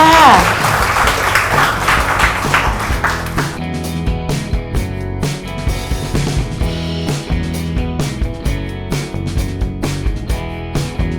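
Students in a Thai school classroom applaud a classmate, with a dense wash of clapping at the start that gives way to sharper rhythmic claps over a steady tonal background.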